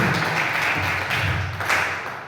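Classroom applause during a teaching practice session, a steady broadband patter of many hands clapping that holds for the whole stretch, fairly close and moderately loud, with no talking.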